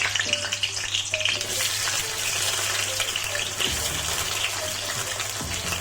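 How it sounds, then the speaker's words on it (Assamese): Potatoes sizzle vigorously in hot oil while cooking Assamese mutton curry, a loud bubbling crackle with occasional stirring scrapes and a low steady hum beneath. "এয়া আমি আলুখিনি ভাজি ল'ম।"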